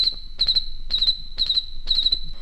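A person imitates cricket chirping with the mouth, combining a whistle with a rolled tongue into a high, trilling pulse, repeated in four quick bursts of rapid chirps in a steady rhythm, close and clear with no talk.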